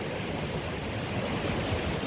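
Lake Superior waves wash onto a beach west of Mosquito, a dense, steady rush of surf with wind buffeting the microphone, loud and continuous with no voices.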